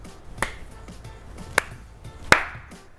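A single sharp hand clap lands near the end, preceded by two softer snap-like hits, each crisp and close with a quick decay over a quiet room.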